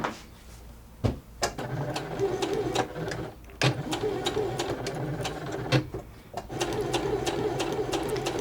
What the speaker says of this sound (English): We're going to go ahead and do a back stitch.